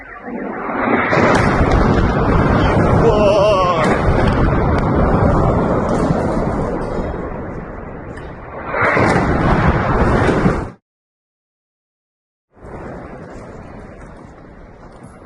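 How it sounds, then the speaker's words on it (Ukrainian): Loud, continuous roaring blasts from a missile strike, with rumbling, wind-buffeted noise, a brief silence near the end, then more distant rumbling. "Вот это взрывы, а!"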